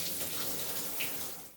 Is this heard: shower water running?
yes